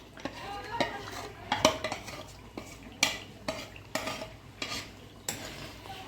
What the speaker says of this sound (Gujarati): હવે એમાં આપણે આ ગ્રેવી નાખી દઈશું